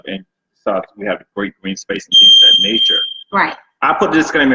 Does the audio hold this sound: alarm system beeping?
yes